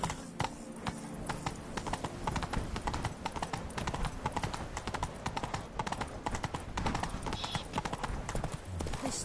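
Roach, the horse in The Witcher 3: Blood and Wine, trots along with steady, close clip-clopping hooves that keep going throughout, over the game's background sounds.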